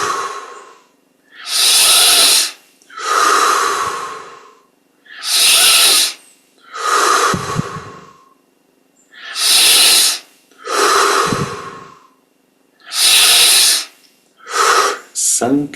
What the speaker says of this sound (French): On augmente l'amplitude des respirations.